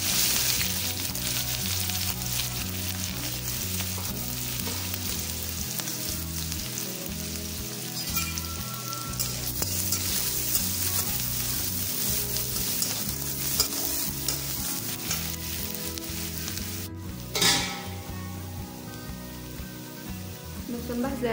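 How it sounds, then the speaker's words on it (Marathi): Finely chopped garlic fries in hot oil in a pan for a Maharashtrian methi bhaji, with a steady, dense sizzle and crackle under continuous stirring scrapes, and one sharp clatter toward the end. "आता हा बारीक केलेला लसूण टाकूया त्याच्यात"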